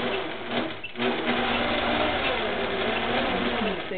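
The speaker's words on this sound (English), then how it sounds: "I'll let you watch while it stitches, so that you can see that portion of it." A sewing machine stitches a quilt along a band, backtracking up and down, with a steady continuous mechanical whir running close and moderately loud throughout.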